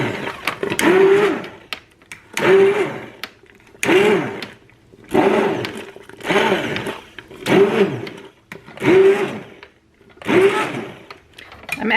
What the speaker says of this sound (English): I'm going to blend up a lot of the bigger chunks